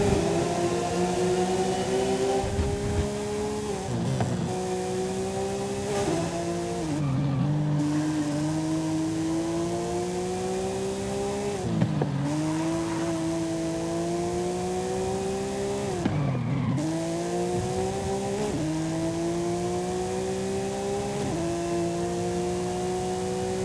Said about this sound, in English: a high-revving NA engine in a rally car is something I didn't know I needed